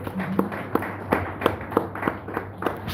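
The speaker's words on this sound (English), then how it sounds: "let's give him a round of applause" A small gathering at a devotional meeting claps in a sparse, irregular patter of a few hands, fairly faint with a low hum beneath.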